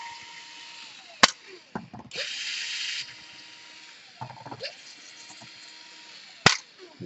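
Small screws being unscrewed from the underside of an Asus GL551J gaming laptop during repair, giving sharp clicks and scraping taps from a screwdriver at close range, with brief gaps between them and no talk.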